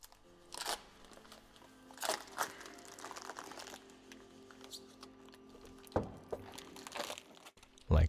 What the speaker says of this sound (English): Now first, to remove the tape.